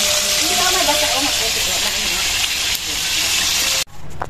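Fresh fish fries in a pan in Negros Occidental, giving a loud, close, continuous sizzle and hiss that breaks off abruptly just before the end.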